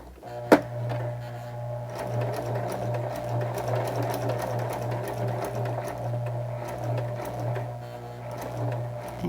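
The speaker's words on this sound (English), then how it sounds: "I went a couple stitches below the ribbon, and I'm going to do a backwards zigzag the whole way right back up to the top" A sewing machine runs a steady backward zigzag stitch over ribbon on a handmade Christmas card, its motor humming with a close, even pulse after a sharp tap at the start, continuing without pause.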